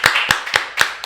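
A few pairs of hands clap for a band on a talk-show set, giving five sharp, separate claps in about a second, close and fairly loud with no voices.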